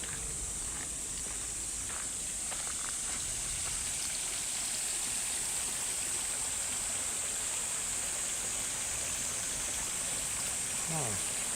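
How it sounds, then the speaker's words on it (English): Spring-fed stream flows steadily outdoors in winter, a constant broad rushing wash with a high hiss, heard close and unbroken for the whole stretch, with faint scuffs of movement near the end. "Beautiful calming stream."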